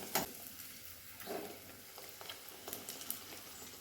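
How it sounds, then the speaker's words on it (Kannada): Hurekki holige, a North Karnataka sweet, fries in hot oil with a soft steady sizzle broken by scattered sharp pops and crackles, close and fairly quiet, with no talking. "ಇದು ಸಿಡಿಯುತ್ತೆ ಎಣ್ಣೆಯಲ್ಲಿ"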